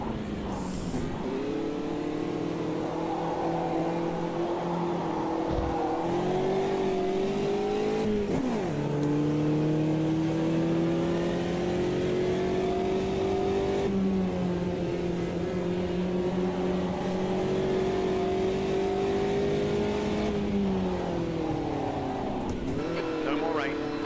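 In Automobilista 2, a race car engine drones loudly and continuously, its pitch climbing through the gears with brief drops at each shift; a voice commentates over it.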